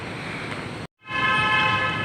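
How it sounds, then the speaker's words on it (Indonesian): An elevated airport train pulling into a station, a steady loud rumble with high whining tones, briefly cut off, then resuming stronger, no talking. "Ya, ini kereta udah mau datang nih."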